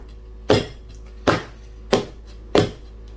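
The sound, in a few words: tapping a cake pan with cherry cake batter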